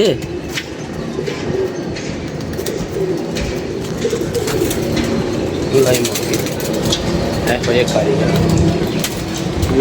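Pigeons coo in soft repeated calls amid rustling and movement, mixed under nearby voices talking over the birds.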